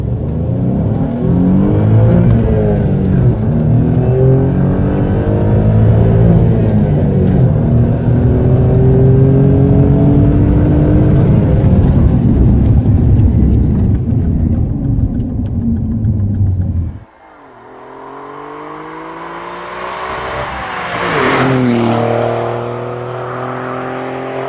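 A 510 hp Alfa Romeo sedan engine accelerating hard through rising revs and gear changes, loud and close. It cuts off sharply near the end, then revs up again before settling.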